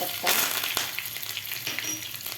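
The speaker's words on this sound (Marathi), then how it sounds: "मी तडका पॅनमध्ये दोन चमचे तेल गरम करून घेतलेलं आहे यामध्ये घालायची आपल्याला मोहरी जिरे हिरवी मिरची" Mustard seeds, cumin and green chili hit two spoons of hot oil in a small tempering pan, giving a sharp burst of sizzling and crackling that stays steady and close for the whole moment.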